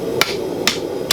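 A blacksmith's hammer strikes a metal spoon blank being forged, three crisp, evenly spaced ringing blows close up with no voices.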